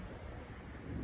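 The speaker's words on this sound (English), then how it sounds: "That wind is going to keep on gusting." Strong gusting wind on a day of sustained windy conditions, a steady loud rushing roar buffeting the microphone with deep low rumble, swelling slightly stronger toward the end.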